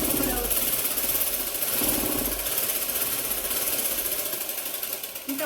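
A sewing machine driven through a belt by an electric motor runs steadily, a fast, busy mechanical clatter and hum held close and loud throughout, easing slightly near the end.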